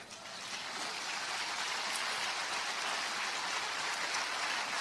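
A church congregation applauds during a sermon, a steady dense wash of clapping that swells in the first moments and holds evenly, moderately quiet and heard alone.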